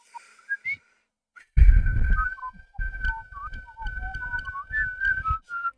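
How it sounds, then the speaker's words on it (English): A man whistles a wavering, warbling heavy-metal style tune, the notes sliding and trilling in quick bursts, close and fairly loud over a faint rumble of breath and handling noise. "Heavy metal whistling."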